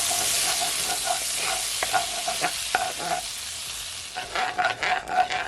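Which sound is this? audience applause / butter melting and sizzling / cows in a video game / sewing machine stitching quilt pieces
butter melting and sizzling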